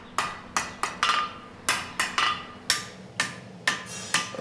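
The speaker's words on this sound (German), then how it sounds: "Wenn ich mit einem 2 Kilo Hammer auf den Amboss hau oder aufs Werkstück, dann bin ich in einem gewissen Rhythmus drin." A 2 kg hammer strikes an anvil and workpiece while railing bars are forged, giving sharp metallic blows in a steady working rhythm. There are about a dozen strikes, clear and close, with no talking.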